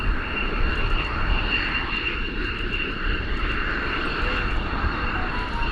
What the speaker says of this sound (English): When the Belgium Air Force still had, as you can see, F-16s.